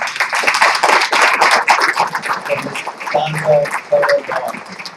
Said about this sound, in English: Let's keep that applause going, y'all.